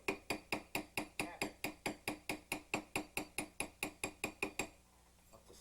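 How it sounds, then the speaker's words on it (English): A hammer taps a gold ring on a steel mandrel during ring sizing, with about twenty evenly spaced, ringing metallic strikes in a quick steady rhythm, close and loud, then a short quiet pause at the end. "Now, take your hammer."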